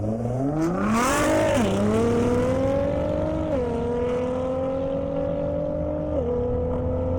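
A race car at an airstrip drag race, such as a Nissan GT-R or Aston Martin, accelerates hard with a loud engine whine climbing through several gear shifts, sustained and close.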